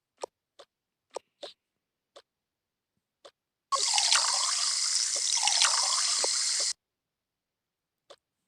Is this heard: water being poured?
yes